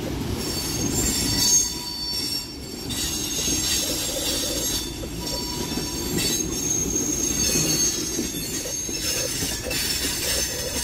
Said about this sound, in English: Wheeling Lake Erie's broke the record on how long a train goes by